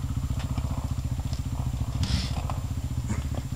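A motorcycle engine runs steadily while riding, with a close, loud, pulsing low rumble throughout and a few faint clicks and rattles on top.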